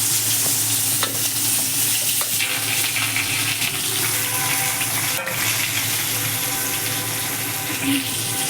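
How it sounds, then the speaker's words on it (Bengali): Potato pieces frying in leftover oil from frying fish, a loud close continuous sizzle with occasional stirring clatter from a spoon in the pan, no talk. "এই মাছ ভাজার তেলের মধ্যে আমি আলুটা দিয়ে দেবো"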